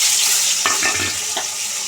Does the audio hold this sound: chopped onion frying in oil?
yes